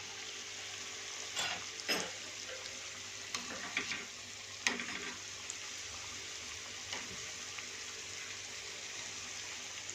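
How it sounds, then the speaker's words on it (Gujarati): Cabbage kofta balls frying in a pot of hot oil, a steady close sizzle with a few louder crackling bursts as pieces go in, no talking. "એક પછી એક વાસણમાં જેટલા કોફતા સમાય એટલા આપણે અંદર એડ કરી અને ફ્રાય કરીશું"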